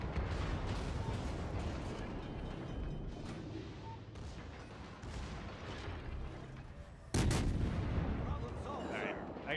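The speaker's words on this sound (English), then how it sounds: "I'm firing at him right now." Naval guns thunder in a battleship video game during a fight with an enemy ship, dense rolling booms and rumbling blasts layered loud and close, with a sharper burst of fire near the end.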